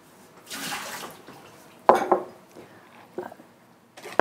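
Water poured out of a pot while preparing Korean beef seaweed soup, a splashing rush at first followed by sharp clunks and knocks of kitchenware and brief drips, close by and without talk.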